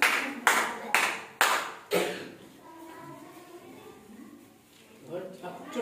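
Children clap in a classroom counting activity, four sharp, loud claps at a steady pace, then a teacher's voice talks briefly as a few softer sounds follow.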